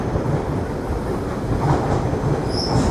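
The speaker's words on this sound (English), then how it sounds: "just when I'm talking, the romance car is passing by" An Odakyu Romancecar limited express train rushes past a small station in Japan, producing a steady loud roar of wheels on rails with clattering and a brief high squeal near the end.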